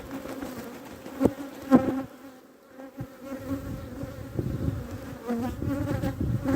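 Honey bees buzz densely in a full beehive, a continuous close swarm drone with a few louder passes near the microphone and no talking.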